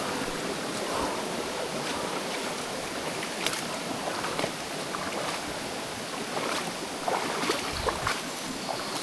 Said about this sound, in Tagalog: Gara ng tunog ng tubig.